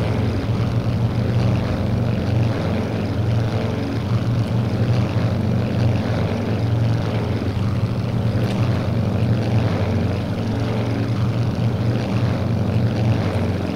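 Aircraft engine drone from a carrier launch in the Strike Fighters 2 Vietnam combat flight game, a steady propeller-like hum that stays even throughout with no talking.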